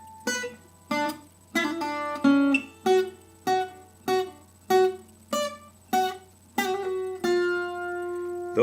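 Guitar playing short, detached staccato eighth notes from Bach's Badinerie, each plucked note cut off cleanly by the pick, in a steady even rhythm, close and clear with no talking, the last note left ringing.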